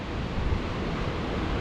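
Big sea waves pound the Scottish coast during Storm Ashley, a loud, steady roar of surf mixed with heavy wind buffeting the microphone, and no voices.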